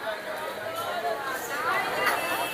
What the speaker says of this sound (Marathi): गेटवेची गर्दी बघा, गर्दीच गर्दी त्यामध्ये.